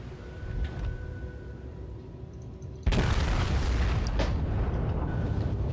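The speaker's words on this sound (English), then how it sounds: "I was dive bombed. Now I'm gonna burn to death." Dive bomb explosions hit a warship in World of Warships: a sudden loud blast erupts partway through, followed by sustained roaring rumble and crackle over a steady background of game noise.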